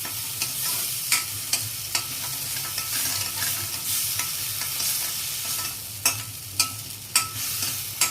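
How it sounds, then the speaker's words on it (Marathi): Masala sizzles and fries in five to six spoons of hot oil in a heated kadhai for Kolhapuri misal, with a steady frying hiss and repeated sharp scrapes of a spatula stirring the pan, close up and without talk. "मी एक पाच ते सहा चमचे तेल घातलं आणि ते मसाला चांगला परतून घेणार"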